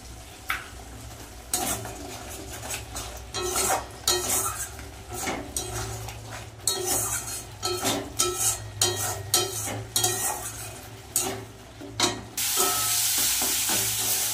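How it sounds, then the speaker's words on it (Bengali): Ground spices with turmeric, chili powder and cumin powder being stir-fried in a pan for a fish-skin and snake gourd chorchori, with steady sizzling and repeated scraping and stirring strokes against the pan, close and loud with no talking. "মশলা কিন্তু কষানো হয়ে গেছে"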